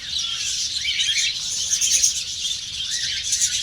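Baby budgerigars kept for sale chirp in a dense, continuous high twittering with brief sharper squawks, close and steady throughout with no talking.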